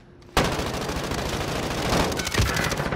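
Heavy gunfire in Call of Duty: Modern Warfare, a sudden loud onset of dense, continuous automatic shooting and blasts that holds steady for several seconds, with no talking.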